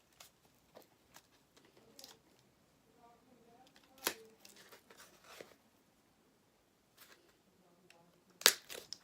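Heavily taped package being torn and ripped open by hand, with sharp crackling tears and scattered crunchy bursts, the loudest rips near the middle and end, close and fairly quiet overall.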